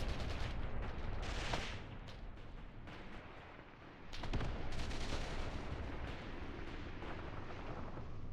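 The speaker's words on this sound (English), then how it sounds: "Platoon mortar is working." A platoon mortar fires in the war game Mius Front: dull booms and sharp cracks land at uneven intervals over a constant rumble of battle.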